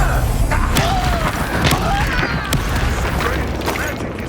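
Hogwarts Legacy combat with the Incendio fire spell cast amid a dense, loud wash of magical blasts, whooshes and crackling effects over game music, with a voice calling out spell names.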